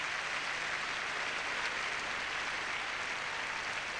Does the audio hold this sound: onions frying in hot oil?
no